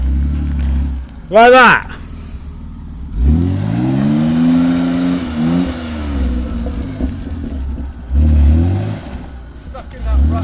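An off-road vehicle at a 2016 off-road event revs its engine in repeated loud surges while stuck in a rut at the back left wheel, close by, with people talking between the bursts.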